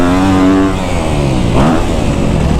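Kawasaki KX250F four-stroke dirt bike engine revving hard while riding on sand, a loud close buzzing drone that dips briefly and then climbs again as the rider accelerates.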